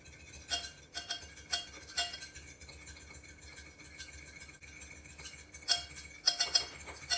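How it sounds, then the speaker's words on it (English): A spoon stirs jello mix in a bowl until it dissolves, with quiet, irregular clinks and taps against the sides and a soft swishing underneath. The clinks bunch into short bursts, sometimes faint and sometimes sharper. "you need to stir that until it's entirely dissolved"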